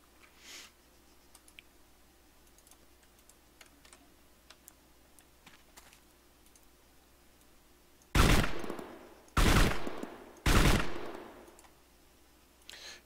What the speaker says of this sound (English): Freaking silenced light machine gun.